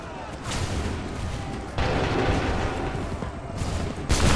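Soldiers fire massed musket volleys in Assassin's Creed 3, a dense, sustained crackle of overlapping shots with heavy booming bursts that swell partway through and again at the end, loud and close with shouted commands mixed in.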